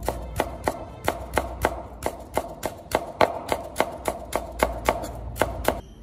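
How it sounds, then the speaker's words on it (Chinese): Ginger and scallions being chopped into mince on a cutting board: a steady run of about twenty crisp knife strikes at an even, brisk rhythm, close and clear, with no talk. "一小块生姜给它切成末， 几根小葱切成末"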